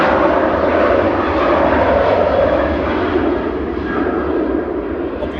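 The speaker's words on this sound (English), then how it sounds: "departing in parallel is Ryanair to Londonderry, GRUKF with flight 8490, across to Northern Ireland" Ryanair jet airliner departing Manchester Airport in the evening, a loud continuous engine roar that holds steady throughout and eases only slightly toward the end, with no talk over it.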